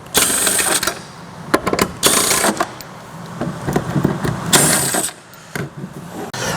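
Socket wrench working loose the bolts on the factory carrier of a Ford Bronco while fitting a roof rack: close, rapid ratcheting bursts and metallic clicks repeating in clusters over a steady background hum, with no talking.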